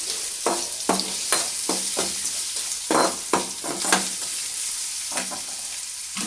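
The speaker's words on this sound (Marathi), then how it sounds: "परत थोडीशी अशी हलवून घ्यायची." Capsicum (shimla mirch) sabzi being stirred in a hot pan: a bright sizzle under repeated sharp scrapes and taps of the spatula against the pan, irregular but frequent, close and fairly loud, with no talking.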